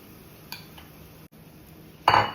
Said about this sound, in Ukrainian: Далі ми в наші овочі додаємо креветки